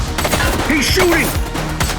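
A suspect fires a gun in the police video game The Precinct, a short burst of sharp shots mixed with a shouted warning and other game sounds.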